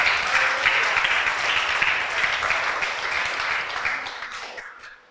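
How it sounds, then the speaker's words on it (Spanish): A church congregation applauds together in steady, full clapping that holds for several seconds, then fades out toward the end. "Denle el aplauso a Dios"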